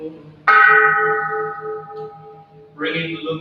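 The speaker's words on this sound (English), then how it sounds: "the sound of this bell pervades the universal" A meditation bell rings at a Buddhist chanting service: one loud, clear strike that hums and slowly fades over a couple of seconds, followed by a second strike near the end.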